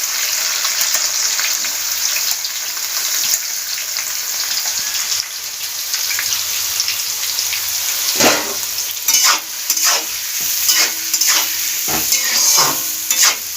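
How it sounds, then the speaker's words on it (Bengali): About 300 grams of finely chopped onion hits hot oil and sizzles loudly and continuously at close range, with occasional spatula scrapes and stirring knocks later on, and no one talking. "তেলের মধ্যে দিয়ে দিলাম হঠাৎ করে আওয়াজ হচ্ছে বাপরে ছোটো ছোটো করে যে পেঁয়াজটা কুচিয়ে রেখেছিলাম তিনশো গ্রাম পেঁয়াজ সেটা দিয়ে দিলাম"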